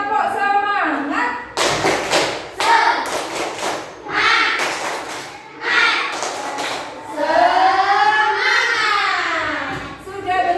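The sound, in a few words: tepuk semangat rhythmic spirit clapping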